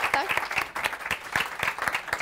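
An audience claps for a speaker at a talk, a short burst of dense, steady applause from many hands at moderate distance, with no voices over it.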